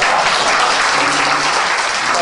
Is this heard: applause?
yes